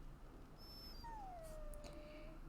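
A dog whimpers close by, a thin rising whine followed by a long, drawn-out falling whimper over a quiet background, with no talk.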